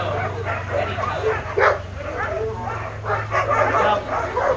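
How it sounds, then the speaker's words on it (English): Retired husky sled dogs at a homestead bark, yip and whimper together in a lively, overlapping chorus, with a low steady hum underneath. "These dogs have not been chosen for Jeff's Iditarod races because they're slow dogs, they're very fast"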